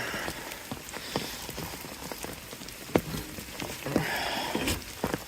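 Steady rain falls close by a sheltered stop on the Florida Trail during a polar vortex cold snap, a dense patter of drops with scattered sharper splats and drips landing on nearby surfaces.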